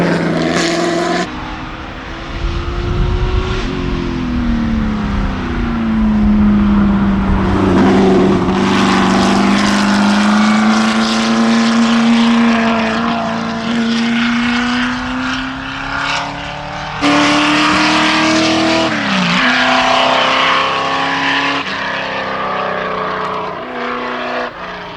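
A Ford GT40 with a 427 engine races past at speed on a track, its loud, sustained roar rising and falling in pitch as it shifts through gears, close and continuous with no talk.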